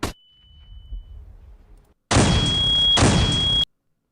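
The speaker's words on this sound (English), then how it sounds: "Throwing flashbang." A video-game flashbang grenade goes off with a loud, sustained blast lasting over a second, carrying a piercing high ringing tone, after a quieter stretch of faint low rumble.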